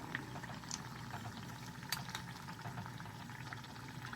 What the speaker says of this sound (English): Aloo takes little time to fry, so give it its time.